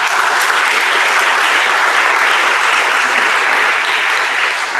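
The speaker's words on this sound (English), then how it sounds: "Can we please give them a round of applause?" An audience at a startup demo day gives a panel sustained, loud, even applause for about five seconds, with no speech over it.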